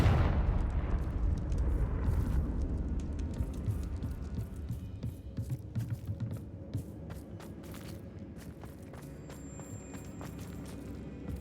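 A Confringo spell explosion booms in Hogwarts Legacy, a heavy low blast at the start that rumbles away, followed by a scatter of sharp crackles and small impacts.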